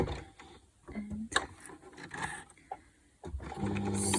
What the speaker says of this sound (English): Set my machine to zigzag.